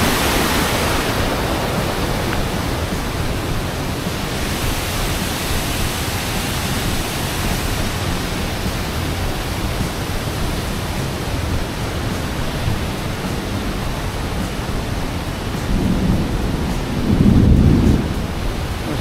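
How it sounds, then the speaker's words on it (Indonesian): Heavy rain pouring at Curug Bangkong waterfall in Kuningan, a steady loud broadband hiss of rain and rushing water throughout, with a low rumble swelling near the end, no talking. "Hujan."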